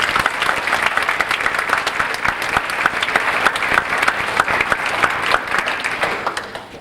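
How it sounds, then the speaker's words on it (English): A concert audience at a jazz anniversary concert at Milton Academy claps at length, with sharp individual claps standing out from a steady, fairly close wash of applause. "How about a nice round of applause for Barbara?"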